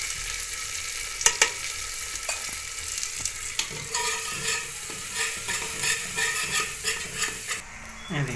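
Red chillies and turmeric sizzling in a pan over a cow-dung and wood fire, with steady crackling frying and repeated scraping stirs throughout, close and fairly loud.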